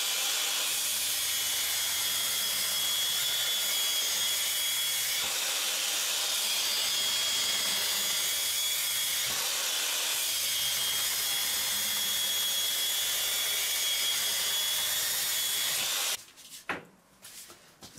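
An angle grinder fitted with a sanding belt grinds continuously with a loud, harsh high-pitched whine, briefly dipping twice before cutting off near the end, with no voices.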